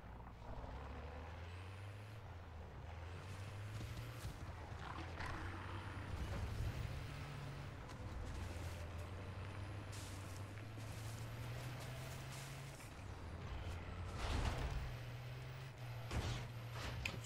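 Vehicle driving in the Call of Duty MW3 Zombies video game: a steady low engine drone with rising gear-like tones, plus intermittent clanks and mechanical clatter, loud and continuous with no talk.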